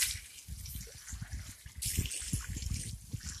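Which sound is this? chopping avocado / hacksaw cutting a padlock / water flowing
water flowing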